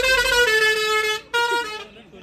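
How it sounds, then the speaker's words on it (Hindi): A loud, long vehicle horn blares with a bright tonal chord, cuts out briefly, then sounds again before fading, with people talking nearby. "ये देखो कितना अच्छा हॉर्न बजा।"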